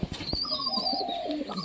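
Homer pigeons coo nearby in a soft, throaty series of calls, joined by a few thin higher chirps, short and clear with no talking.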